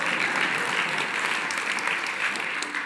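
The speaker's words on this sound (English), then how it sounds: "Yeah, you can applaud" A TED talk audience applauds steadily and warmly for the speaker's wife in the hall, a dense wash of clapping that holds at an even level for about three seconds before easing slightly at the end.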